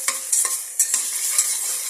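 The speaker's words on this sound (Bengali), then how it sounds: "তারপর এটাকে ভালো করে নাড়তে হবে। আমি এখানে এটাকে নাড়ছি।" Chopped onions and spring onion leaves are stirred in a hot pan with no spices, giving a soft sizzle and a few quick scraping strokes of a spatula, close and brief.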